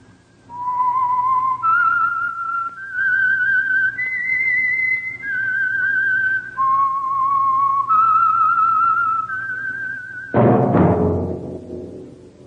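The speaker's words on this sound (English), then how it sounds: "That whistle is your signal for the Signal Oil Program, The Whistler." A lone person whistles a slow, clear melody of sustained notes as a radio program theme signal, loud and close, ending with a sharp burst of noise.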